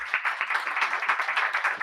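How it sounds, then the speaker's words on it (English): Applause from an audience at a business talk, a dense steady patter of many hands clapping at moderate volume for a couple of seconds, with no talk over it. "Can I get a round of applause for that?"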